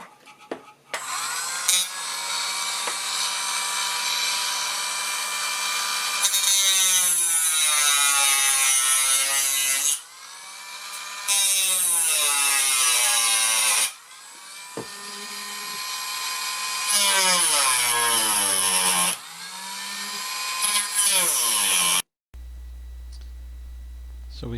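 A Dremel rotary tool cuts through a plastic telescope hand controller, a loud, close, high-pitched grinding whine that runs in several long passes separated by short pauses, its pitch sagging and recovering under load.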